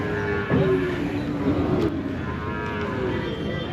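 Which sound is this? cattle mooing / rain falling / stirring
cattle mooing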